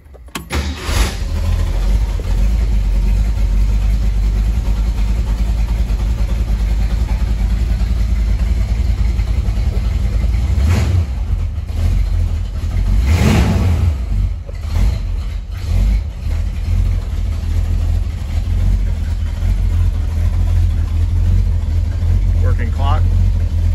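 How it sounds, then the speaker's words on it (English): 1966 Ford Mustang convertible, left sitting for two weeks, cold-starting and then idling with a few revs, a steady loud engine rumble lasting the whole stretch. "just wanted to put up a quick video today just to show a cold start"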